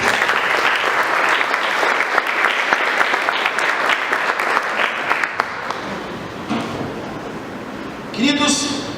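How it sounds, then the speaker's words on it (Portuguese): Church congregation at a family service applauding Jesus, loud sustained clapping that fades after about six seconds as a voice comes in. "Quem crê nisso, aplaude o Senhor Jesus."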